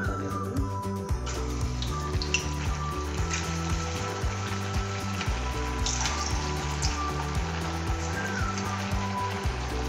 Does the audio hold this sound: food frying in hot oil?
yes